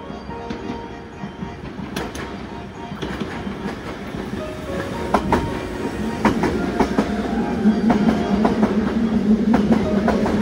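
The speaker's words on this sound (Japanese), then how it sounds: "3号線に宝塚方面へ向かう電車が到着します" A Hankyu Takarazuka Line train rolls into Juso station with rumbling wheels and clacking over rail joints, growing louder as it draws near, brakes faintly squealing.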